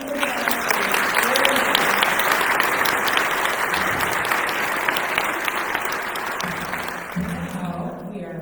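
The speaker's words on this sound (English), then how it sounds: "So let's all give a round of applause." An audience at an annual business meeting applauds with sustained, dense clapping at even loudness for several seconds, thinning and fading out near the end as someone begins to speak over the tail.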